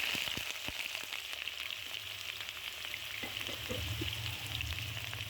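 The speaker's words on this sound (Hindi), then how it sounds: "यहाँ पर प्याज मेरे पास हो रहे हैं फ्राई।" Chopped onions frying in hot oil in a karahi for quail karahi, a steady close sizzle with light crackling and spattering, continuous and alone until an abrupt cut at the end.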